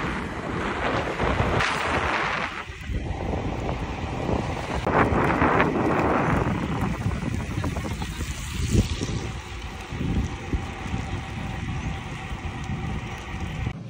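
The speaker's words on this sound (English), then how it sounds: "Okay, it's raining. I did not beat the storm." Strong wind roars and buffets the microphone while cycling through a rainstorm around Girona, a constant loud rushing with gusty swells and rumbles, mixed with faint background noise.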